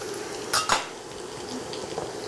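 Chopped garlic and a slice of butter going into a pan for a cream of zucchini sauce, with two quick clinks of utensil on pan, then a soft sizzle and faint stirring close by.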